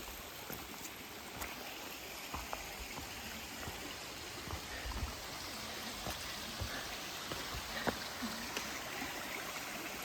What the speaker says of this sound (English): Trail is running along Eliza Brook.